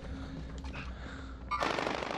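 Gunfire erupts in Call of Duty Warzone, a loud rapid burst that bursts in near the end over a steady background of in-game ambience, the shots close and dense.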